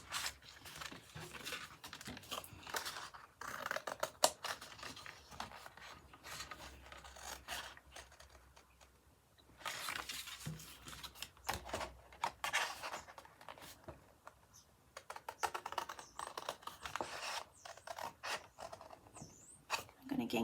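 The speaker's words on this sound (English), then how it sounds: "I can use my scissors to cut up to the area that I want here" Scissors snip through paper while a pop-up book is being cut out. The close, dry cutting and scraping comes in irregular bursts, with quieter pauses in between.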